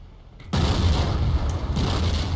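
Loud, dense gunfire and booming blasts from the video game Battlefield 1942 start abruptly and hold as a sustained roar of shots.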